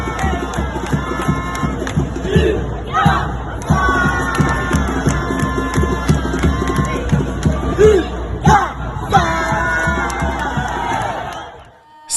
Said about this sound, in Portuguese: Cid Neto tem apenas 3 anos e ficou empolgado com o canto da torcida do Icasa.